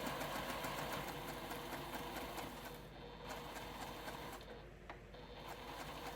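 A sewing machine runs steadily while stitching a small quilted mug rug, its motor hum and needle chatter continuous and close, slowing slightly in places.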